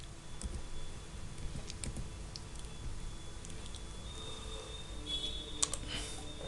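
Quiet, rapid typing on a computer keyboard while entering AutoCAD commands, with irregular soft key clicks and a few sharper taps toward the end.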